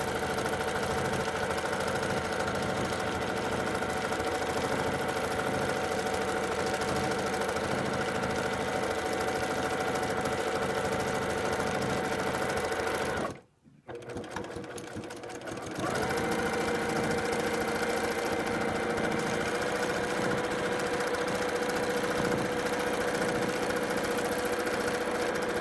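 A sewing machine sews an appliqué quilt with polyester thread, a fast steady motor hum and needle chatter running close and continuous, breaking off briefly near the middle before resuming at the same pace.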